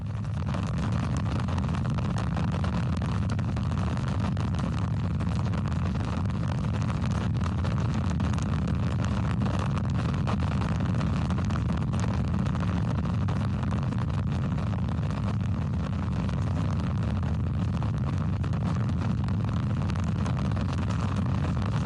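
A Blue Origin BE-4 rocket engine test firing roars steadily and continuously throughout, a dense, sustained rumble heard from a distance without breaks or voices.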